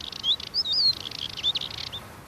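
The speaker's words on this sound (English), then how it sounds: "The spring warmth has coaxed a male Dartford warbler onto a rooftop perch, proclaiming his territory in a confident chorus." A male Dartford warbler sings from a rooftop perch in spring, a quick scratchy run of high chirps and trills over faint background hiss, fairly close and heard alone.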